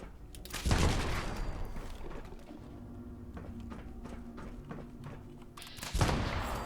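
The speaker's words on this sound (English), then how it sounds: "Because as you can see, the explosion is rather large." Explosive arrows from a compound bow in Fallout 76 burst in two loud blasts, one near the start and one near the end, with a quieter rumble and game ambience between them.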